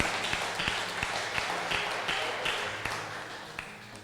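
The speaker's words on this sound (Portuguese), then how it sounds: "Dá um aplauso ao Senhor" Church congregation clapping for the Lord in applause, a dense wash of hands with some sharper individual claps standing out, fairly faint and distant.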